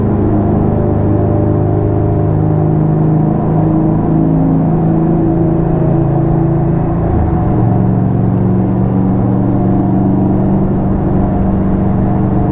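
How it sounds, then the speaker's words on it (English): An Indian Scout 60 motorcycle engine hums steadily inside a tunnel, a loud, droning low rumble with echoing reflections and slight swells in pitch, continuous with no talking. "bike sounds pretty good in here."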